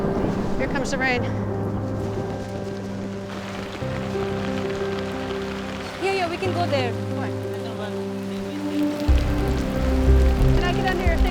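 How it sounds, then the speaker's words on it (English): Monsoon rain falls in a Rohingya refugee camp, a steady hiss of drops under nearby talk, with a low engine-like drone running through and the downpour growing heavier toward the end. "Here comes the rain."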